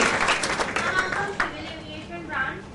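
An audience at a political party's welcome ceremony for new voters claps, a brief patter of applause heard under a speaker's voice.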